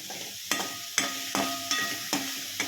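Fresh curry leaf sprigs fry in hot oil in a pan for a mixed vegetable and meal maker curry, giving a steady sizzle broken by several sharp stirring scrapes spaced about half a second apart.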